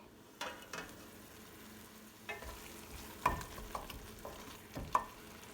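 Tomatoes cooking in a pan for bitter gourd and onion curry give a soft, low sizzle broken by several sharp clinks and scrapes of a spoon, with no one talking.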